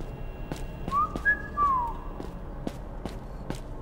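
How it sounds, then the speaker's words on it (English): A character whistles in the background of the indie video game Sparky Marky, a short rising and falling melodic whistle heard over faint ambient game sounds with periodic soft clicks. "And I think that's Sparky that's whistling in the background."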